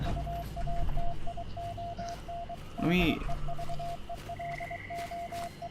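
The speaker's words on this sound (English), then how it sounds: "Hey, let me decrypt this Morse code." An SOS Morse code radio signal in Fallout 76 beeps as a steady, evenly repeating series of short and long mid-pitched tones over faint radio hiss, with voices talking over it.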